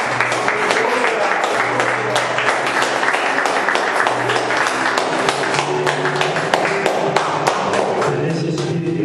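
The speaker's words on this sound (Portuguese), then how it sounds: "Que as palmas louvem a Deus." A church congregation claps along steadily, the dense clatter of many hands in even beats running the whole way with a low tone sustained beneath, close and fairly loud.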